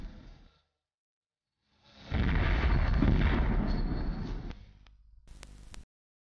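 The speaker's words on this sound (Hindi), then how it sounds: "तो कान्हा की नगरी में अब गूंज रहे हैं धमाके" Blasting from hill mining in the Braj region, heard as a long roaring explosive rumble that swells, holds for a couple of seconds, then fades, followed by a sharper burst.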